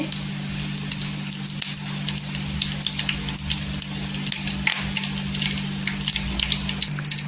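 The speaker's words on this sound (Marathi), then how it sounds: "त्याच्यामध्ये कढीपत्ता टाकायचा। कढीपत्ता छान असा तरतरला पाहिजे" Curry leaves spluttering in a spoonful of hot oil, the first step of a red crab curry, crackle in a dense steady sizzle with sharp pops scattered throughout, close and alone over a low steady hum.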